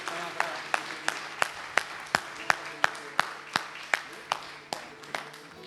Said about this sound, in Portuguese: Vamos dar aquela salva de palmas que é sempre gostoso